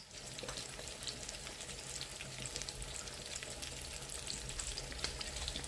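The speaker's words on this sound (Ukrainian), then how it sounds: "Спочатку обсмажуємо на такому середньому вогні без кришки." Steady, continuous sizzling of liver frying in an uncovered pan over medium heat, a dense crackle with no talking.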